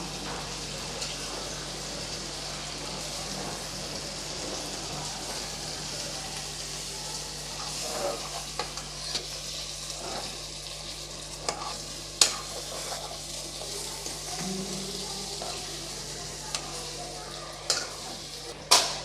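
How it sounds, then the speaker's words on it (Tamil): Slow stirring of egg pepper masala in a pan, a steady soft sizzling bed with occasional scraping clicks of a spoon against the pan, close and fairly quiet. "இப்போ முட்டையோட மசாலாவை மெதுவாக நம்ம கலந்து விடலாம்"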